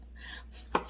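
A single sharp knife chop hits a cutting board during home cooking, a brief close knock after a quiet moment, with no talk.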